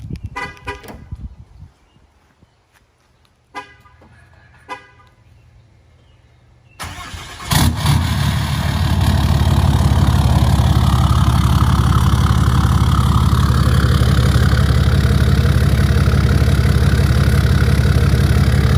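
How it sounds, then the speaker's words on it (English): A truck engine cold start: it cranks and fires up with a loud roar, then settles into a steady, rumbling idle that continues for a long stretch after some quiet rattling, exhaust facing out the rear. "let's do a cold start for you."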